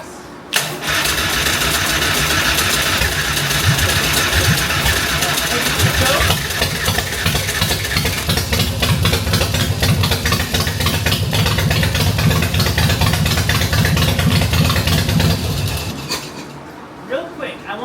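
A Harley-Davidson Softail-type motorcycle that sat unused for years cranks and starts, then runs at a loud, close, steady idle for about fifteen seconds before shutting off.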